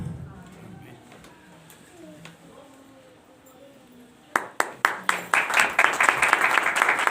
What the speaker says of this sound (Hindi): जोरदार तालियां खुदावंद के कलाम के लिए।